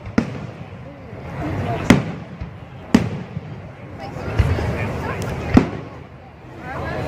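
Bonfire Night fireworks go off over Hertfordshire allotments, several sharp bangs spaced a second or so apart against a rumbling background, moderately distant, with voices faintly in the mix.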